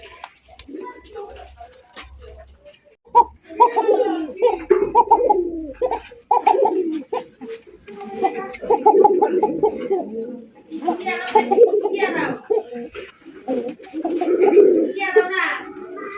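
Close, soft cooing of Basiraj fancy pigeons kept for sale in Bangladesh, low rolling coos repeating in bursts over most of the stretch, with people talking nearby.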